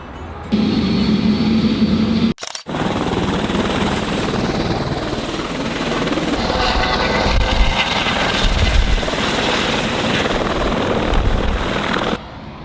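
A helicopter flies close by with a steady, loud rotor and turbine roar that holds for the whole stretch, broken only by a brief cut early on, with no talk.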